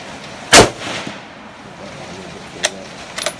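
Dry-fire trigger pull on an empty Remington 700 ADL bolt-action hunting rifle, one sharp loud snap followed by a few fainter metallic clicks, close and without talk.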